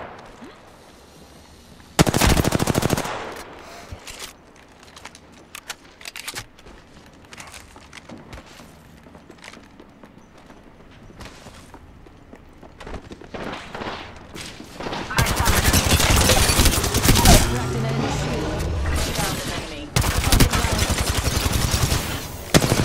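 Bursts of automatic gunfire in the battle royale video game Apex Legends, loud rapid volleys in several clusters with quieter stretches of game ambience between them.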